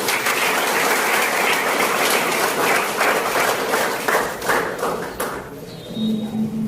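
An audience at a village felicitation ceremony applauds the women candidates with sustained, fairly loud clapping that thins out toward the end, where a brief tone sounds.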